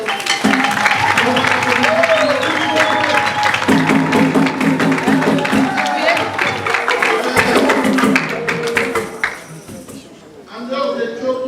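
Audience applause at a stage show, dense clapping under a loud announcer's voice and music that fades near the end.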